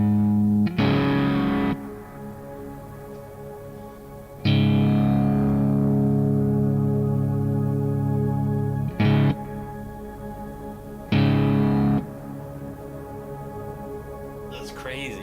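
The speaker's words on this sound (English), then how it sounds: "That's called an atmospheric reverb." An atmospheric reverb effect patch turns four played phrases into sustained, washy tones with long smeared tails, loud and close, separated by brief gaps.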